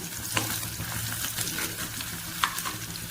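Onions sizzle and fry with a bay leaf for chicken salna, a close, steady crackle with a few sharper stirring scrapes.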